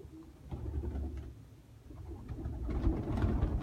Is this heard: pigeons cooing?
yes